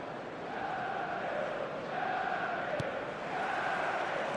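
Stadium crowd in the eFootball 2026 mobile game, a steady dense roar of many voices with gentle swells, moderately loud and continuous, no talking.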